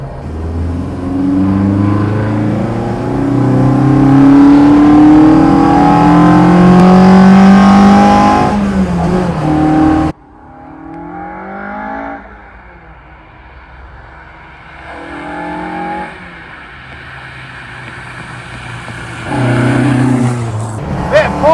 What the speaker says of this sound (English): I love the sound of throttle bodies on it.